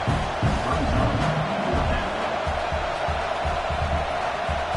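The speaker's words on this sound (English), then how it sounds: "This crowd trying to do its part to get inside the kicker's head." Football stadium crowd at a Michigan at Nebraska game, a dense, continuous roar of thousands of fans making noise before a field goal attempt, steady and loud throughout.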